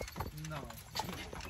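Horse hooves clip-clop on pavement as a horse pulls an Amish buggy in Lancaster, Pennsylvania, a few close, uneven strikes mixed under people talking nearby.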